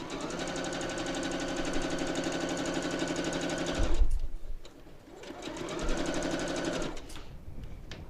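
Sewing machine stitching a quarter inch seam on quilt block pieces, a fast steady motor chatter running for about four seconds, a brief pause, then a second burst of rapid stitching, close and clear.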